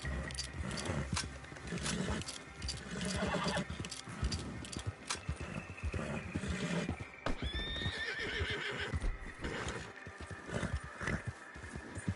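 A horse in the Red Dead Redemption 2 video game neighs loudly in a rising whinny, with clip-clopping hooves and dense game sounds running throughout.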